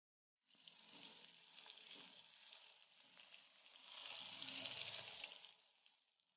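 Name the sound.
pointed gourd (potol) frying in mustard oil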